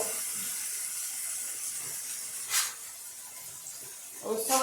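Pork searing in a slow pot, a soft steady hiss close by with two brief louder bursts of sizzle, no voices.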